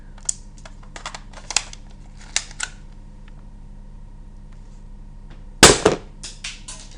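Small clicks and snaps from a Lego toy gun firing at a target, a scattered series of light plastic ticks followed by one louder sharp crack and a short clatter, with a faint steady background hum.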